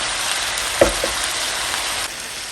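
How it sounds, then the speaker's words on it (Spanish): Chopped onion with shredded chicken breast frying in a pan gives a steady close sizzle, with a brief louder crackle or clink of the chicken going in and the frying continuing evenly afterward. "Ya que ves que se está sofriendo la cebolla, le vamos a agregar la pechuga ya deshebrada."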